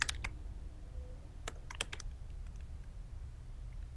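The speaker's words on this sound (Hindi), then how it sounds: "का हमने ईमेल आईडी टाइप कर दिया." Typing on a computer keyboard while entering an email address: a few quick clusters of crisp key clicks separated by short pauses, close and clear over low steady room hum.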